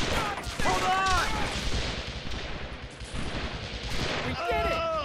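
Rapid bursts of gunfire in the war strategy game Men of War Assault Squad 2 keep up a dense, continuous clatter, while soldiers' voices call out briefly near the start and end.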